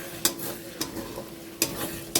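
Spices and Kashmiri red chili powder fry in a wok, a low sizzle broken by four sharp scraping strokes of a spatula spaced irregularly, close and quiet, with no talk.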